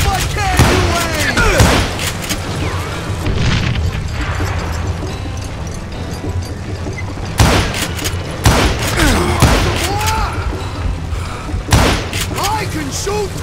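Loud, sharp gunshots from a western shootout in the video game Call of Juarez: Gunslinger, a string of irregular cracks with booming echoes, mixed with voices speaking between the shots.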